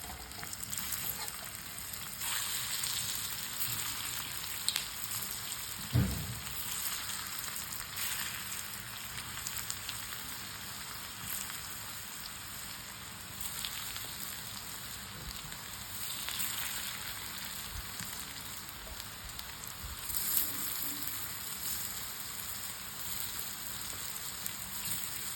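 Vadi frying in hot oil, a steady crackling sizzle with scattered pops running continuously, moderately close, with one sharp knock partway through.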